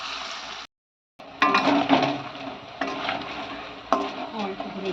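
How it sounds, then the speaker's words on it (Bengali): Raw banana kofta frying in oil in a wok, giving a steady crackling sizzle with bursts of bubbling and stirring noise, broken by a brief silent gap near the start. "আর এবারে এটাকে বড়ার মতো আকারের শেপ দিয়ে দেওয়া হবে, দিয়ে ভেজে নেওয়া হবে।"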